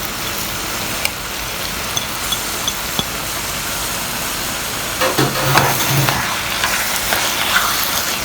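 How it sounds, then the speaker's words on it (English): Mutton biryani mixture frying in ghee with nuts added over raised heat, a steady broadband sizzle throughout with occasional sharp pops and louder bursts of crackling and stirring toward the end. "So now basically this just has to fry up and start releasing the ghee"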